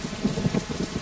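Rain falls steadily in a brief dramatic film scene, a dense, even patter close by with no voices.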